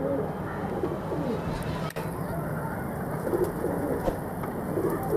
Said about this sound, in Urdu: یہ دیکھیں یہ کبوتر، ماشاءاللہ بہت ہی خوبصورت کبوتر